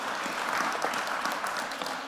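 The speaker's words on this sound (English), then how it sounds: "Round of applause for Cassa" An audience at a stage magic show applauds in a short, dense burst of clapping that holds steady and fairly loud.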